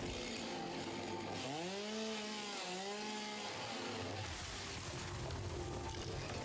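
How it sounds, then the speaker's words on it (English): Chainsaw in the video game Satisfactory, revving up with rising and falling engine whine as it cuts, then settling back to a droning idle, no voices. "Where's my chainsaw? There it is."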